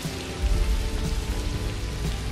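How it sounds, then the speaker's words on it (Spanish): Rain falls steadily in a film scene from Pitch Black, a dense hiss of drops on surfaces with a low rumble underneath, heard continuously and fairly loud, with no voices. "se pone a llover justo ahora"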